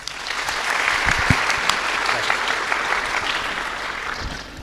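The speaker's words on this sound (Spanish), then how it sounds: "un aplauso para el hermano." An audience at a church gathering gives sustained applause, a dense crowd of clapping at moderate loudness with a few sharper, closer claps rising above it.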